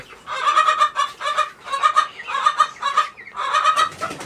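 Two-month-old Tiger and Light Brahma chickens cluck close by in quick, repeated bursts of throaty calls with short gaps between them.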